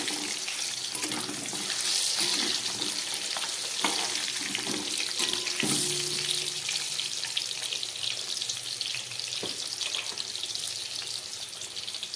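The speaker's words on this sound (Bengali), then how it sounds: "একদম গ্যাস কমিয়ে এটাকে একটু ভেজে নিচ্ছি দু মিনিটের জন্যে" Potatoes frying in oil in a pan on low heat for Kolkata restaurant-style biryani: a continuous close sizzle and crackle with occasional stirring clinks, and no talking.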